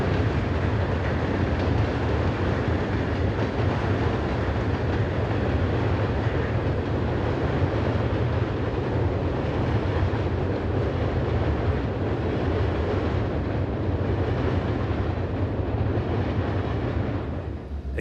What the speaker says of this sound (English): This train consisted of 118 cars.